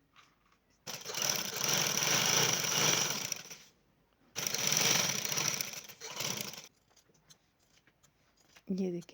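A sewing machine stitches along buckram for collar work in two long, loud, steady runs of rapid whirring separated by a pause, with a voice briefly heard.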